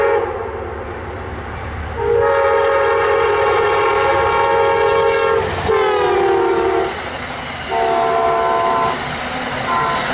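A train rumbles past while its horn sounds several long blasts, then a shorter final blast, loud and close.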